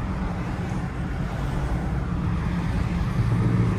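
Car driving through a road tunnel in Paris toward the A86, a steady enclosed engine and tyre roar with a boomy low rumble that stays even and loud throughout, no talking.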